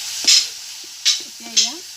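Local chicken pieces with tomatoes frying and being stirred in oil in a pot, three distinct scraping stir strokes over a low steady sizzle, close and fairly loud, no talking.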